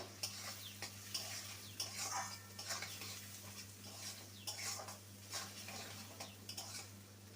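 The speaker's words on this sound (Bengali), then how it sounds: "সেই কোচানো পেঁয়াজ পেঁয়াজটাকে ভেজে নেবো" Finely chopped onions fry in a pan for dhaniya mutton: a soft sizzle broken by repeated utensil stirring clinks and scrapes, with a low steady hum underneath.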